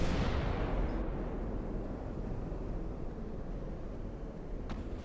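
Naval artillery fire from Russian cruisers near the Aland Islands in Ultimate Admiral: Dreadnoughts, a loud boom at the start decaying into a rumbling roar, with a faint sharp crack near the end.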